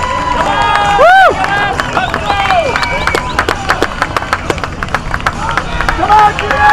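Spectators cheer and clap along a course at a 2010 FFCC race in Malborough, a lively outdoor crowd with whoops and scattered claps under a nearby voice urging riders on.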